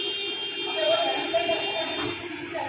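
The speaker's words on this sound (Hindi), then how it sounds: "तीन बंद होगी बीप की आवाज़" A Microtek inverter sounds its low-battery warning as a steady, fairly loud electronic beep tone that holds across the whole stretch, with some background noise and faint voice-like sound beneath it.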